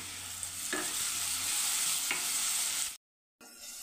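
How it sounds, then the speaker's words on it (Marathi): Onions frying with coarsely pounded ginger, garlic and chili paste for pav bhaji, a steady close sizzle with two sharp stirring scrapes, then a brief silence before the frying resumes. "आता आलं, लसूण आणि मिरचीची पेस्ट घालून घेऊ आपण."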